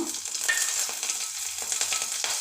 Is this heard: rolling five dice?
no